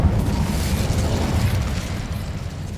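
A fire spell cast in the Hogwarts Legacy video game roars as a loud, steady low rumble of flame that holds for about three seconds with no break.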